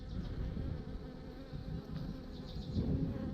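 Honey bees buzz steadily at an open beehive during a hive check, a dense, even drone close by, with no voices.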